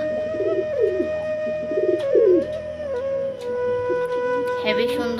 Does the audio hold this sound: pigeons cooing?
yes